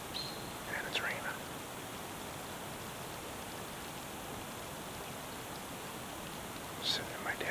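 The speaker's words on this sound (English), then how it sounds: "As soon as I sat down, it started raining." Steady rain falls on a morning in southern Ohio while a hunter sits in a deer stand, a soft even hiss that fills the background, with a few faint taps and rustles near the start and end.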